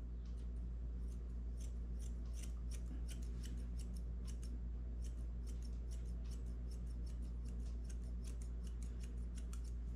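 Scissors trimming the coat of a long-haired dachshund during show grooming, a run of quick, crisp snips repeating close up and steadily over a low constant hum, with no talking.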